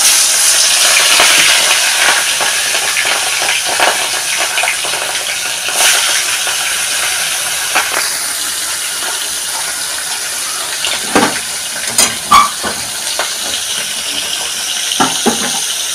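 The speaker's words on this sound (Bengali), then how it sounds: "মাছটা আমি ভেজে নেব, মাছটা আমি দিয়ে দিচ্ছি, হয়ে গেছে তেলটা" Large pieces of rui fish frying in hot oil, a loud, continuous close sizzle with occasional sharp pops and clatters from the pan, steady throughout with no talk.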